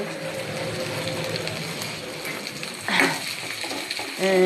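Bay leaf, cinnamon, black cardamom and cloves frying in hot oil give a dense, continuous crackling sizzle at close range, with a brief louder burst near the end and a faint background hum.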